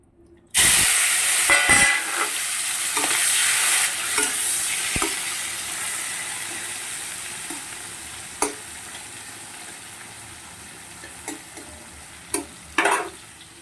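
Spice paste of cumin, turmeric, ginger, tomato and chilli frying in hot oil for a pointed gourd and potato curry, a loud steady sizzle broken by a few sharp scrapes and clacks of the stirring spoon.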